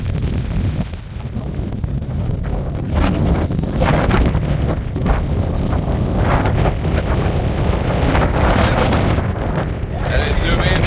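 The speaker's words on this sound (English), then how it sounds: "Definitely, yes, it is windy." Strong winter wind at Bird's Nest disc golf course roars and buffets the microphone in loud, gusting bursts for the whole stretch, with no pause between blasts.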